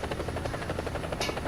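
A helicopter flies in a video game, its rotor chopping in a steady rapid pulse over a constant engine drone, loud and close, with a brief hiss near the end.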